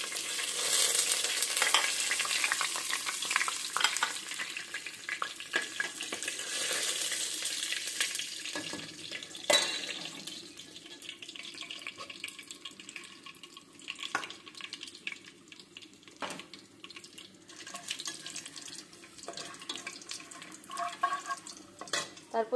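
Cardamom, bay leaves and cinnamon fry in hot oil, a steady crackling sizzle that is strongest at first and then settles, broken by occasional sharp utensil clicks and stirring scrapes.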